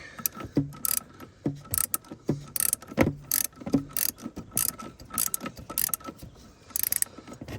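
A hand ratchet tightens a thermostat housing bolt on a GMC Savana van, giving repeated clicking strokes at a steady working rhythm, close and fairly loud, with brief pauses between pulls.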